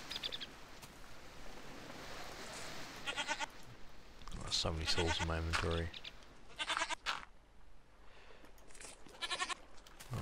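Bleats from a goat in Minecraft with the Technic Pack sound in short, clear bursts scattered through the clip, one longer wavering call in the middle, with someone talking between them.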